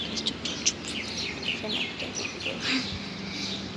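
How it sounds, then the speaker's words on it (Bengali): Pigeons chirp and call in a busy, continuous chorus, with a few brief louder squawks standing out against a steady background hum. "আজকে আমাদের কাছে একটা নতুন কবুতর আসছে"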